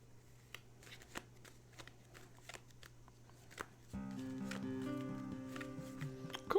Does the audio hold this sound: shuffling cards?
yes